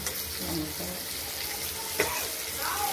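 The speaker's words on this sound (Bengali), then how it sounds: "শুকনো লঙ্কা এটা ফোড়ন হিসাবে ব্যবহার করছি।" Bay leaf and dried red chillies splutter in hot oil as a tempering, a low, soft sizzle with light stirring and a single brief tap partway through.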